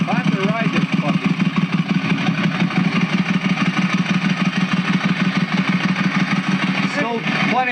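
A Ducati motorcycle engine with a new exhaust idles close by with a steady, throbbing low rumble, with a couple of brief higher sounds near the end.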